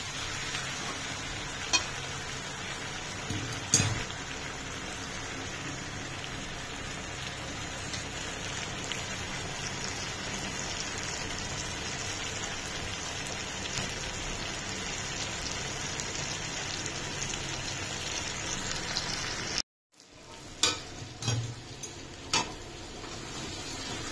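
Chicken kosha, a spicy Bengali chicken curry, sizzles and crackles steadily in a pan, with a few scrapes of stirring and a brief drop to silence near the end before the sizzle resumes.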